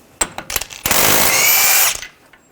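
A power tool removing the CV axle nut on a 2009-2017 Volkswagen Tiguan 2.0L: a few short ratcheting clicks, then a loud close burst of whirring impact for about a second before it stops.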